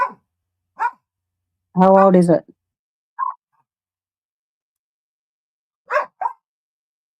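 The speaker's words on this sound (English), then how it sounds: "I'm sure you can hear that damn dog." A few sharp, scattered dog barks spaced out over several seconds, with a brief spoken question in between.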